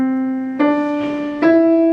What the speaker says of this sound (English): So if you played that scale on a piano